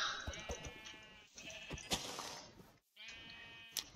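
Sheep bleating in the Minecraft video game, several wavering cries in a row with short gaps and a sharp game click or hit among them, close and clear, no voices.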